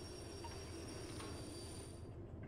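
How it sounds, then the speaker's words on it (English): Train in the Derail Valley simulator braking to a stop: a steady rumbling roll with high, thin wheel-squeal tones drawn out over the whole stretch, fading near the end, with no talk. "Gonna stop the train now because it takes a little bit to stop"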